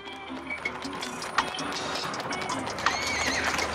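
Horses trot along a straight road at over 30 mph, hooves clattering in quick rhythmic clip-clops on the hard surface, with mechanical rattling and a faint whinny mixed in, heard from close by.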